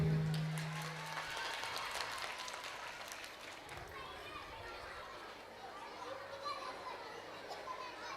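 Applause for dancers at a school annual day and KG graduation ceremony, a faint distant spread of clapping mixed with children's chatter and crowd noise.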